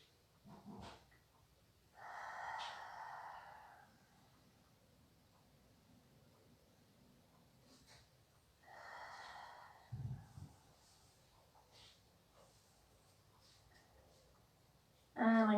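Slow conscious breaths during a morning yoga session, each an airy inhale and a longer soft exhale, spaced several seconds apart and faint against a quiet room.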